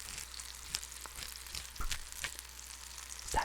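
Food crackles and sizzles steadily in a hot pan, with scattered sharp pops and a few light clinks, close and alone.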